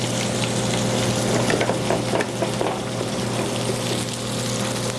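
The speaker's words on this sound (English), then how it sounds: "what we're doing with these is lightly pan frying them in a little bit of olive oil" Grit cakes pan-fry lightly in a little olive oil in a restaurant kitchen, making a steady, dense sizzle with a few brief crackles and a constant low hum beneath, with no one talking.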